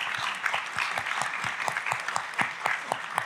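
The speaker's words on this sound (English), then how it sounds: "please, once again, big applause for Jay" An audience at a Kubernetes conference talk applauds the speaker, a faint, distant patter of steady clapping with a few hands standing out.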